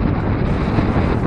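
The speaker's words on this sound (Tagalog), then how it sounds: "Lakas ang hangin." Strong wind at the seashore during shore casting in the Philippines, a steady, loud roar buffeting the microphone with no break and no voices.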